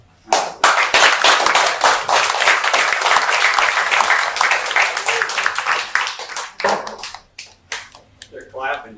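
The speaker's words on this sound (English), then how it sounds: "They're clapping because Bennett's in my class next semester." An audience bursts into loud, sustained applause of many hands clapping together, holding steady for several seconds before thinning into scattered claps near the end.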